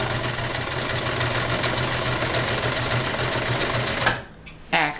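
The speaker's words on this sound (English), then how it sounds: "send you back to the sewing machine to flip and stitch" A sewing machine stitches quilt fabric in a continuous, even run, the motor whir and fast needle chatter close by, stopping near the end before brief handling sounds.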